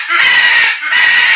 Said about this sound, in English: between your bird and my dogs, Bill, you got to get something making noise